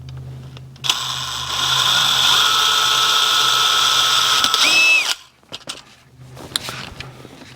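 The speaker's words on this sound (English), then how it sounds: "Drill yourself a small pilot hole to start with so you don't skate on the top of it." A power drill whirs at high speed for about four seconds drilling a pilot hole in Yamaha AT-1 MX bodywork, then winds down, followed by a few clicks and handling noises.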